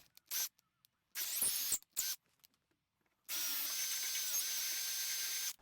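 A power drill bores a hole in a workpiece held in a clamp inside a vise, two short high-pitched bursts followed by a longer steady whine, with quiet gaps between.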